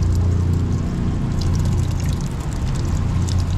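Liquid draining from ingredients for sisig, a steady trickling and dripping that runs continuously at close range with a low background hum.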